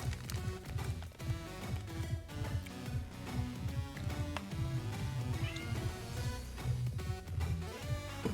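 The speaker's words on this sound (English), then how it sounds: "This cat is not leaving me alone." A pet cat meows repeatedly nearby, its cries rising out of a loud, steady layer of game music and effects.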